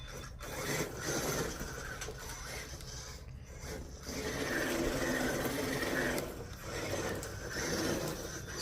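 The Axial Ryft RBX10 RC rock bouncer with a modified power system and two-speed transmission drives along, its motor and gears giving a faint, continuous whirring, grinding drone that rises and falls as it speeds up and slows.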